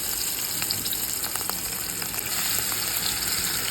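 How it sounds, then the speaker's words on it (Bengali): Steady, loud sizzling and crackling of fish frying in hot oil, continuous throughout with no talking. "এখন একটা একটা করে মাছ দিয়ে দিই মাছগুলো ভেজে নিই"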